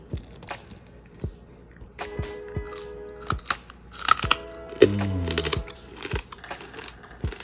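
Crisp crunching from someone biting and chewing crunchy Puerto Rican roast pork shoulder skin up close, a series of sharp cracks and snaps at an uneven rhythm.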